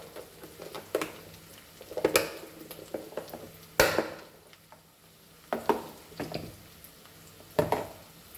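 Squid masala noodles frying in a pan, with a quiet background sizzle broken by irregular clatters and scrapes of stirring against the pan at close range.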